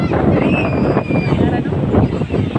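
Strong seaside wind buffets the microphone in a loud, continuous roar with gusty swells, while a faint voice sounds underneath.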